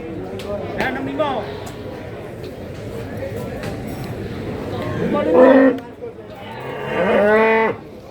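Cattle at the Babat livestock market in Lamongan, with loud, close moos rising and falling twice amid a busy crowd murmur and occasional hoof clatter, while people chat in the background.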